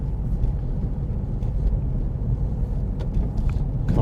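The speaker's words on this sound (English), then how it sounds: "Car at junction, other car approaching junction." A car idling and rolling at a roundabout junction in Folkestone, a steady low engine rumble heard from inside the vehicle, with faint road noise and occasional small clicks.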